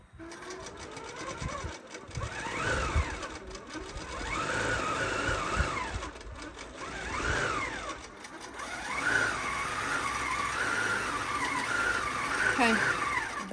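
A QCT6 Pro computerized quilting machine stitches a pantograph pattern. Its fast mechanical whir runs continuously, with pitch rising and falling in repeated sweeps as the head travels and short pauses between passes.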